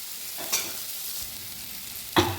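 Mustard paste going into a hot frying pan, a soft low sizzle with two clear clattering stirs, one near the start and a louder one at the end.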